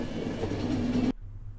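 A train's engine breaks down in the video game The Final Station: a loud, steady mechanical rumble with a whining tone cuts out abruptly, leaving only a low hum.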